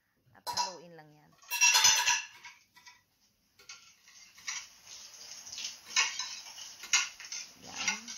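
A spoon stirs chopped onion and tomato in a bowl for an eggplant omelette, making light clinks and scrapes against the bowl in uneven bursts, with a brief faint voice near the start.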